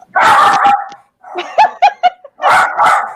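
Pet dogs bark at home in loud, close bursts, sustained yaps, then a run of short sharp barks and another long volley, with no talk over them.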